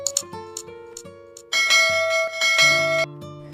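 A bell ringing sound effect, several bright chiming tones sounding in quick succession, then a louder sustained ring, clear and close.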